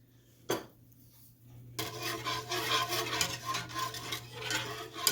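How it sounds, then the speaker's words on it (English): A whisk stirs milk and Bird's custard powder in a pan, giving a steady scraping, rubbing rasp that starts after a short knock and quiet pause, then continues close and fairly loud for several seconds without talk. "I'll give that a nice stir with the whisk"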